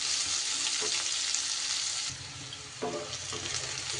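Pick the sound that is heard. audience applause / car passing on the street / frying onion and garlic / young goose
frying onion and garlic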